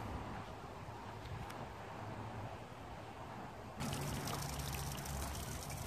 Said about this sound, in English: I just suck on the end and get it going just like a regular siphon.